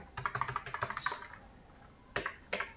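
Quick keystrokes tap on a computer keyboard while entering data into an Excel spreadsheet, a fast run of close clicks followed by a pause and two final isolated presses.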